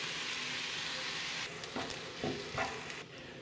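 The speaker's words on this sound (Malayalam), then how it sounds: "സവോള ചേർത്ത് നല്ല ബ്രൗൺ നിറമാകുന്നവരെ ഒന്ന് വഴറ്റി കൊടുക്കാം" Onions sizzle and fry in a pan with salt as they brown for a Kerala-style squid roast, a dense steady hiss with a few soft stirring scrapes partway through, close and continuous with no talking.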